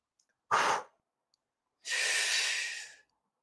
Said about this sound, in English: Listen to my breathing.